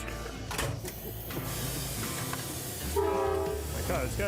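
A train rolls along rails on an Australian line, a steady close rumble of wheels and carriage with a brief tonal horn-like blast near the end; no talk over it.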